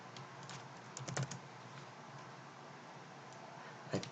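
Scattered keystrokes on a computer keyboard while coding a top-down RPG tutorial, a few brief clicks and small bursts over a steady low room hum, fairly faint and close.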